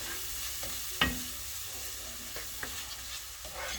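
Garlic sizzles quietly in a hot pan, a soft steady frying hiss broken by a sharp clack of a utensil against the pan and a few lighter stirring taps.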